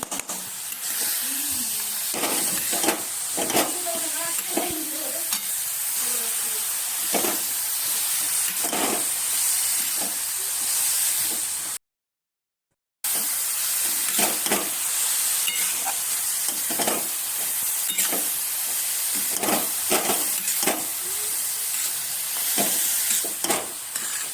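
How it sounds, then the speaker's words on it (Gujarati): Grated carrot roasts slowly in ghee for carrot halwa, with a steady soft sizzle and repeated scraping strokes as it is stirred, plus a brief silent gap midway. "તો હવે આપણે ધીમે ધીમે ઘીમાં શેકાવા દેશું."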